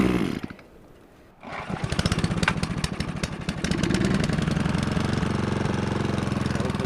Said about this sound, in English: This is a gas-powered sap pump, a water transfer